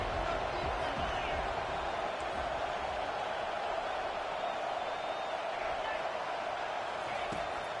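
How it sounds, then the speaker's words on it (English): Stadium crowd roaring in a college football video game at a conference championship, Vanderbilt at Florida; a dense, steady wash of crowd noise that holds at one level throughout. "and the crowd now really getting into it"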